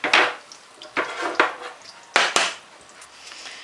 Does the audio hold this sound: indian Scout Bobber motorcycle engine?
no